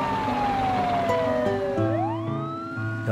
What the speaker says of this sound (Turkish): Polis arabası ve ambulansa yol veriyorlar.